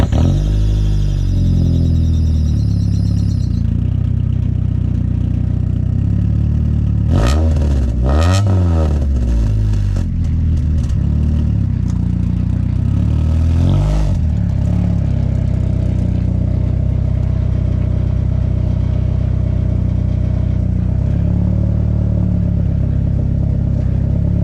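A 1994 Honda Accord engine runs loud and steady through a newly replaced catback exhaust muffler, with a couple of brief revs rising and falling near the middle before settling back to idle.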